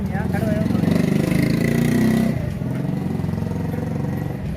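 Motorcycle engine running steadily nearby, a continuous low rumble behind someone talking close to the mic.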